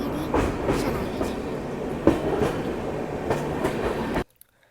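The Bengaluru to Mangaluru Vistadome train runs on rails through the Western Ghats in July rain, giving a loud, close rumble with rhythmic clickety-clack wheel beats that cut off abruptly near the end.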